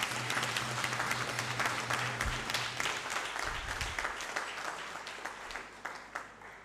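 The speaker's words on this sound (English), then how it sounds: "Let's give him another round of applause." An audience at a land surveyors' annual seminar breaks into sustained applause, a dense patter of many hands that fades gradually, with a brief voice heard over it.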